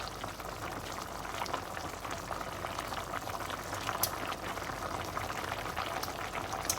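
A mixed mushroom and pork belly curry boils in a pot with a steady, close bubbling and frequent small pops and splutters. It keeps an even level throughout with no talking.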